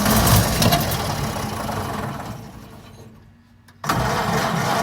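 A 1928 Ford Model A four-cylinder engine runs loudly and roughly, dipping and nearly stalling before surging back with a sudden catch, close by.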